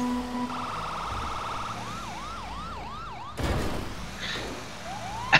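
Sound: police siren from video game vehicle

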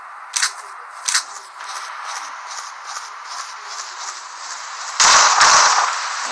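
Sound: gunshots in the video game Surviv.io

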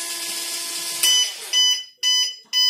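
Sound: buzzer of drunk-driving engine locking model

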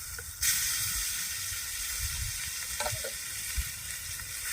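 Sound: stone-ground spice paste frying in hot oil

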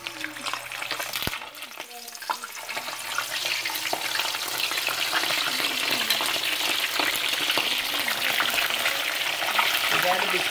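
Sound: fish frying in hot oil for brown stew fish

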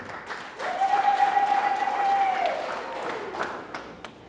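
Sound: applause for the resort company

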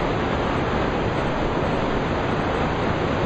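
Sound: waterfall on Mount Hood

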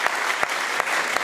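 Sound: audience applause for a fan

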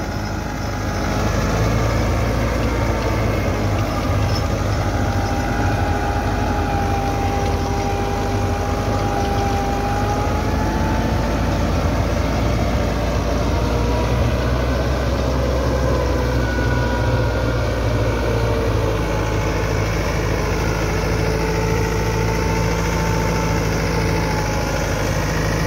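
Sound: Massey Ferguson 385 tractor engine running

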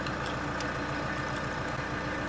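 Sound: tractor engine rumbling

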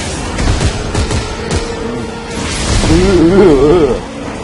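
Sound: semi-automatic gunfire in the video game Dead Space 3

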